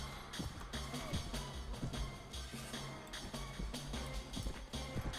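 Horse hooves clip-clop quickly amid the clatter of a medieval battle in Mount and Blade: Warband, a steady, busy and rather faint mix with no clear speech.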